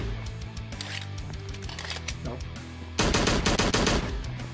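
Rapid bursts of gunfire in the horror survival game Slendytubbies 3, on The Lake map, starting as scattered shots and then turning into a loud, dense volley of sharp cracks over the final seconds.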